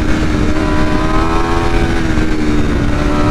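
A 2022 Aprilia RSV4 Factory 1100 with a flashed ECU, ridden in first gear on fresh pavement, gives a loud, close engine roar that swells and eases as the throttle rolls on and off, with no voices.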